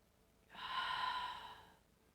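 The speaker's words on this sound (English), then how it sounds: "Big breath in." A single deep inhale drawn slowly through the nose and mouth during a guided breathing meditation, breathy and close, swelling then fading over about a second and a half in a quiet room.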